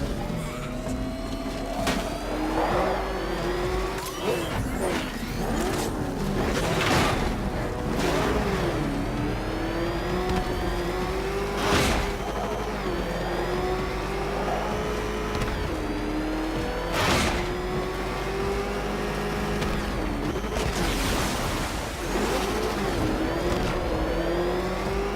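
Batmobile engine in Batman Arkham Knight revs and surges continuously, a loud rising and falling whine with repeated acceleration bursts and mechanical whirring over game sounds, no talking.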